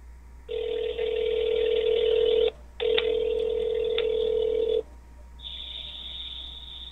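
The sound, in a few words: phone call ringing on speakerphone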